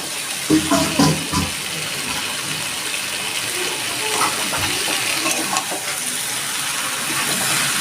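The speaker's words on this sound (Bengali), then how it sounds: "মশলাটা আমার কষানো হয়ে গেছে আমি দিয়ে দিচ্ছি আলুগুলো আমি এবার ইঁচড়টাও দিয়ে দিচ্ছি" Potato pieces and jackfruit drop into a pan of frying spice paste, a few heavy clunks early on, then a continuous hiss and sizzle with light stirring.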